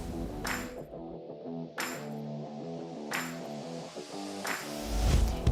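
A hammer strikes a punch on a marked metal workpiece four times at slow, even intervals, each blow a sharp ringing metallic ping that decays into a sustained tonal hum.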